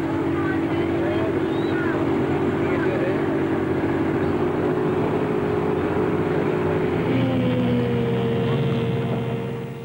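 Steady droning outboard motor boats racing on the Balsas River in 1975, a continuous roar with a low throbbing hum and a pitch shift near the end as a motor changes speed.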